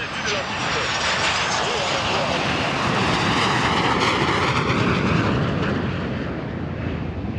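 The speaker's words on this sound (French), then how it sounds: "des avions de chasse de l'armée de l'air des forces armées angolaises ont survolé ce vendredi les ciels de Kinshasa" Two Angolan Air Force Sukhoi Su-30K fighter jets fly over Kinshasa, producing a loud, steady, broadband jet roar that holds without a break throughout.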